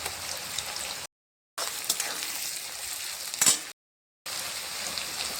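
Garlic frying in hot oil with bay leaf, dried chilli, cinnamon, cardamom and cumin for methi chicken, a steady broadband sizzle that cuts out twice before resuming, with a sharper crackle near the end.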